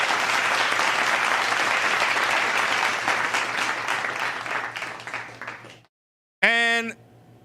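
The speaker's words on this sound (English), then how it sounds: "Can I get an applause for Mr. Johnny Debb, Charles?" Studio audience applause for Johnny Depp on a talk show, a dense burst of clapping that gradually fades out before a short silence, then a brief musical sting closes it.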